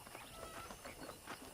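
Horse hooves clip-clop steadily across ground in the Western video game Red Dead Redemption, a dense rhythmic patter of quick irregular steps mixed with faint creaks, with no talking.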